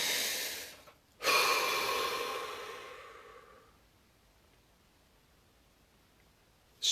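One person takes a deep, slow breath during a guided relaxation session, a brief inhale, a short pause, then a long audible exhale that fades to quiet; close and alone, with another breath starting at the end.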